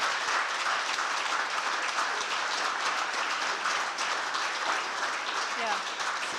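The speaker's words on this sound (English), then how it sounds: "Very warm, big round of applause, please, for Fiona Easterby." An audience applauds a speaker at the close of a talk, a dense, steady wash of clapping that holds at an even level for the whole stretch with no break.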